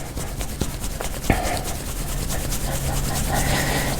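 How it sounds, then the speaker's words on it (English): Palms rubbing vigorously over the ears during a yoga self-massage for fatigue, giving a steady close, muffled scraping rustle that runs continuously, with one sharper bump early on. "take the palm of your hand and then vigorously, lightly rub your ears"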